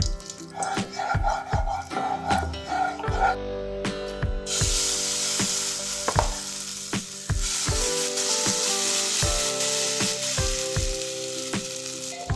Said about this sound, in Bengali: আলুটা আমি ভেজে নিচ্ছি সামান্য তেল দিয়ে নিলাম